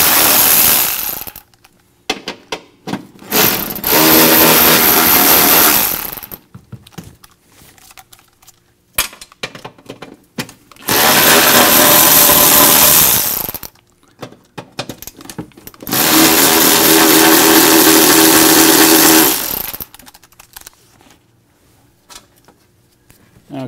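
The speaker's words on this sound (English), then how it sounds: "Now I'm going to go ahead and remove these four bolts right here and pull the tray out of the engine compartment." Bolts on the battery tray of a Mercedes W116 300SD come out under a power tool: three loud, sustained bursts of whirring, each about five seconds long, separated by quieter stretches of small clicks and handling noise.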